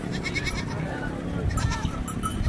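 A goat that has just given birth to three kids bleats in a quavering voice several times, close by, with a person talking over it.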